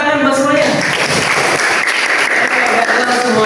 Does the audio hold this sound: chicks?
no